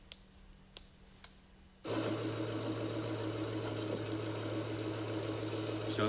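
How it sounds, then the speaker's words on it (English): A car engine cranks and catches, then settles into a steady, loud idle with a continuous low rumble and mechanical hum. "It says it has an engine start video."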